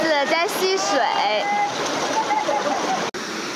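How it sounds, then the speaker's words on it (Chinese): A small waterfall rushes steadily in a rural Chinese valley in summer, where children play in the water; the constant hiss and splash runs beneath a nearby voice talking. "这里又有一个瀑布"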